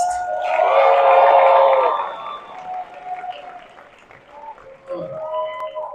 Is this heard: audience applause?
yes